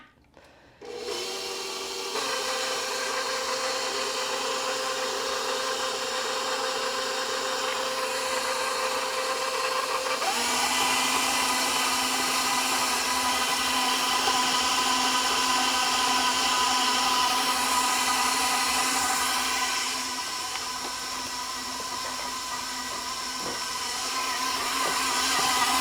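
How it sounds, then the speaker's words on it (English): A stand mixer on low speed works pie crust dough as ice water is drizzled in, giving a steady, continuous motor whir that shifts slightly in tone partway through and runs on alone with no talking. "mixer on low and drizzle this 1/3 cup of ice water in to mix everything up until it forms a dough ball"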